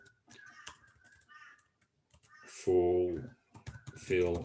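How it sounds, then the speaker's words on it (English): Light clicking of someone typing on a computer keyboard, soft and intermittent, with a person talking over part of it. "Sorry about the typing"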